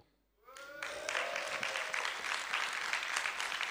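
Applause from an audience breaks out after a brief quiet moment and continues steadily, a dense crackle of many hands clapping.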